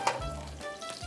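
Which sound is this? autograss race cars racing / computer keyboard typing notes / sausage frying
sausage frying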